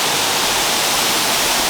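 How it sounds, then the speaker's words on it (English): A waterfall roars inside a cave in North Bali, a loud, dense, unbroken wash of rushing water that fills the space evenly with no other sound above it. "The water made this beautiful roaring noise"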